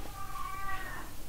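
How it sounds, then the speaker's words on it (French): A house cat meows loudly in one drawn-out, wavering cry over steady background hiss, with nobody speaking. "ça c'est mon chat qui gueule"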